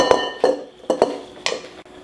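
A spoon mixing a lemon ice cream base with condensed milk and lemon flavoring in a bowl clinks sharply about five times in an uneven rhythm, close and clear with quiet gaps between.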